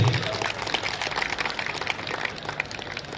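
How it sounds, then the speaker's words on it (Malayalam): A church gathering claps for everyone behind the event, a scattered, textured round of hand claps at moderate level lasting a few seconds, with faint murmuring voices beneath. "ഇതിന്റെ പിന്നിൽ പ്രവർത്തിച്ച എല്ലാവരെയും നമുക്ക് നല്ലൊരു കൈയടി കൊടുത്ത് നമുക്ക് അഭിനന്ദിക്കാം"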